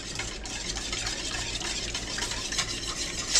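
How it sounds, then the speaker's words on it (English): A spoon stirs a bean flour batter with live yeast in it, giving a steady, soft scraping and swishing that runs continuously at close range with no talking. "You just want to stir that up."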